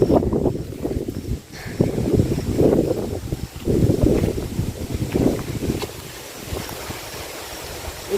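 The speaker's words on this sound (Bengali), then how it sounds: "হাওয়া হচ্ছে দেখো" Wind gusting across village jute fields, buffeting the microphone in loud, uneven rumbling surges that ease toward the end, with no talking.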